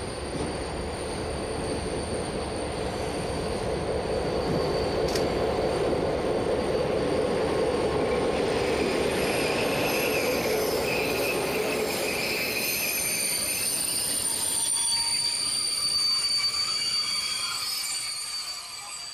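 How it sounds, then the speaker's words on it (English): A diesel-electric locomotive train rumbles past steadily with loud rolling noise and high metallic wheel squeals, fading slightly toward the end. "Trains for Terneuzen are brought as far as Sas van Ghent by a Belgian locomotive"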